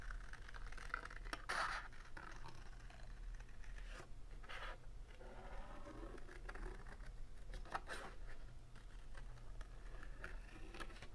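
Scissors snip and scratch through paper while a heart shape is cut out for a scrapbook page, a steady run of close, quiet rasping cuts with no talking.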